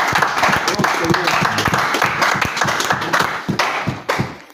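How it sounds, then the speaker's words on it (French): Church congregation applauding and cheering in acclaim of Jesus, a loud, dense burst of clapping mixed with voices and shouts that gradually thins and fades toward the end. "Acclamons pour le Seigneur Jésus"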